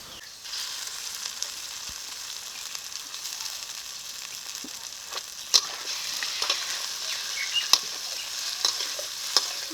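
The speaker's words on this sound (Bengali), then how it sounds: "মাছের ডিমটাকে এখন ভেজে নেব" Fish roe frying in a pan with onion and chopped chili gives a steady, moderately loud sizzle, with scattered sharp crackles and pops spread through it and no voices.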